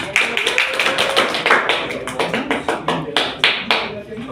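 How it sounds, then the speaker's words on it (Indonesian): Students clap for a classmate after a classroom presentation on the Garantung, a traditional musical instrument, producing a steady, close patter of many hands that keeps going and thins slightly toward the end. "Tepuk tangan untuk Petri."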